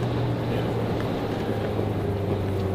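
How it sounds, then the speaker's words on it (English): A turbocharged car engine pulls uphill at full boost, a steady droning hum with a low tone that wavers slightly as the revs climb, heard from inside the car. "it fluctuates a little as it runs through its rev range as the turbo"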